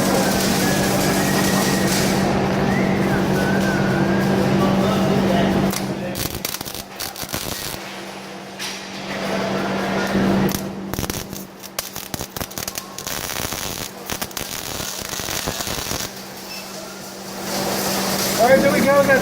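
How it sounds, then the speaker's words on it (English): A MIG welder makes short, crackling tack welds on metal. The sizzling bursts come in a few brief spurts, and a person talks over a steady background hum. "when we tack weld, I'm just gonna tap it and then zap it"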